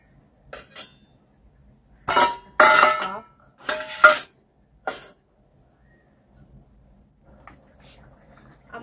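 Several loud metallic clatters and clanks ring out close by as a lid is set on a pot while prawns and pumpkin cook, in short separate bursts with quiet gaps between them.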